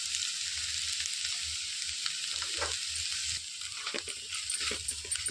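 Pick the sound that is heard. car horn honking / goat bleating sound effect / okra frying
okra frying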